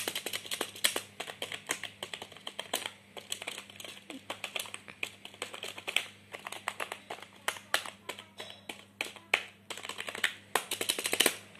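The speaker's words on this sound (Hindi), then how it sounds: "मैकेनिकल कीबोर्ड टाइप, सुन सकते हैं आवाज़" Someone types on a Zebronics mechanical keyboard, producing rapid, irregular clacks close by at a quiet level. The keystrokes come in quick bursts over a faint steady hum.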